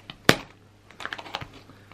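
Scissors snip and click while cutting open a cardboard box, with one sharp, loud snap near the start followed by a quicker cluster of softer clicks.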